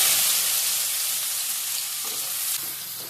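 Onions frying in a pan with cardamom for a Bengali egg curry, a loud, dense, steady sizzle close up that eases slightly toward the end, with no voices.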